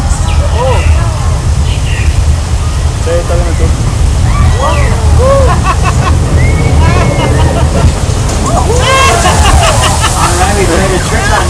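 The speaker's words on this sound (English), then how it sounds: "The flood is a result of thousands of gallons of recycled water being released from tanks up on top of the hill" Rushing water from a simulated flash flood, thousands of gallons of recycled water let loose from tanks on a hilltop, pours in a steady loud wash while a crowd chatters and calls out over it.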